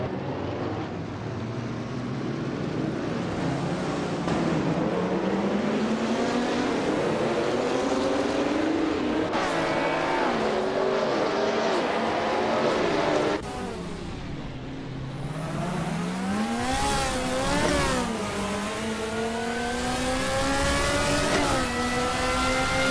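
Race cars speed around the Gold Coast track, a loud continuous engine roar with pitch sweeping up and down as cars pass and shift, and no voices.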